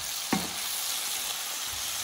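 Mushrooms and garlic sautéing in a pan give a dense, even, close-up sizzle throughout, with one short scrape of stirring near the start and no talk.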